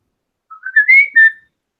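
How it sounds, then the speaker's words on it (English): A person whistles a short, bright, rising-then-level phrase of a few notes lasting about a second, clear and close with no other sound around it. "I want to hear your best whistling."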